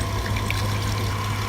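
Coolant poured into the cooling system of a 2012-2018 Jeep Wrangler JK during a Mishimoto coolant filter install, a steady close liquid pour and gurgle with an even hum beneath, no talking.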